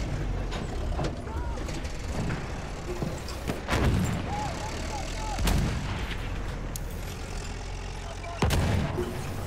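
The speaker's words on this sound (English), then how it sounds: "he just missed with the bombs" Bombs dropped from aircraft explode near tanks in a Battlefield 1 multiplayer match. A few heavy booms land several seconds apart over a rumbling engine and distant gunfire, with players talking throughout.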